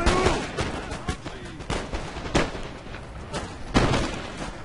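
Militia musket volleys crack out in a Napoleon: Total War battle, a series of sharp, irregular gunfire bursts and rolling fusillades spread over the background din, some close and loud, others more distant.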